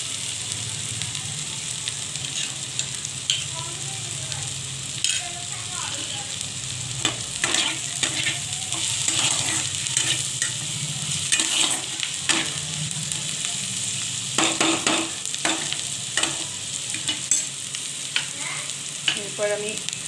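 Onion, green chilli and garlic stir-fry in a pan for a mushy Bengali fish-roe bhujia, giving a steady, close sizzle with repeated scraping and stirring strokes of the spatula throughout.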